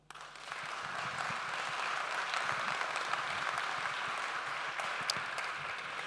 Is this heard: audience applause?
yes